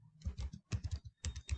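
Someone types a command on a computer keyboard in close, crisp bursts of keystrokes with short pauses between them, heard alone with no voices.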